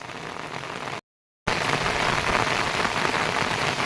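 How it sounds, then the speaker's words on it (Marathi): Rain pours steadily over rice paddy fields, a dense close hiss of drops that briefly cuts out and then returns louder and unbroken. "पाऊस आला"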